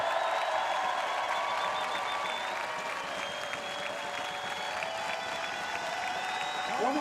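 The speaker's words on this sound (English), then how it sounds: "On applaudit les joueuses de l'équipe de France." A stadium crowd applauds the French women's canoe polo silver medalists at a world championship medal ceremony, steady dense clapping with a faint voice over the venue speakers.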